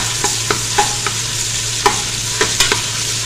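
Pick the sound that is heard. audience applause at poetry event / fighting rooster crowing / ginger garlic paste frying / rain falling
ginger garlic paste frying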